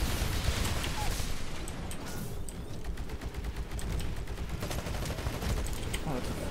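Dense, continuous gunfire in a video game beta with Titans, fast rattling shots layered over a loud, noisy battle din with no pauses.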